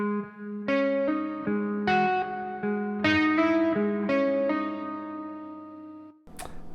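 Slow hammer-ons on a distorted electric guitar in drop tuning make up a rock exercise, each note sustaining into the next and fading before a sharp noise at the end.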